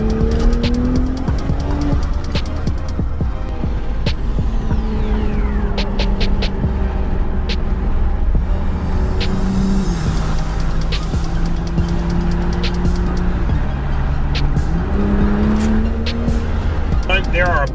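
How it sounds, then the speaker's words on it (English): A 2020 Toyota Supra with a turbocharged engine drives hard along a mountain road, revving up and down through gear changes with occasional tire squeal, under a voice talking throughout. "this is a turbo motor, so there's a lot of power potential with this car"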